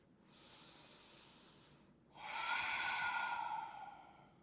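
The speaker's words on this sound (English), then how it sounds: "Once again, breathing deep and finding stillness." Slow, deep breaths during a lower-body yoga stretch, a long airy inhale followed by a short pause and a fuller, rougher exhale, close and quiet.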